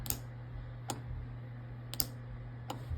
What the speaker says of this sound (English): now when I press the button, you'll hear the solenoid click.